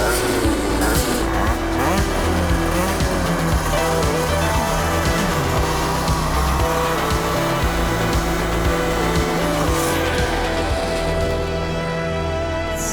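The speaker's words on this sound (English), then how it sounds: "Rum rum, Dax, you love the drag races." A drag race car launching with screeching tire squeal and a loud roaring engine, continuous and close for several seconds, with voices faintly underneath.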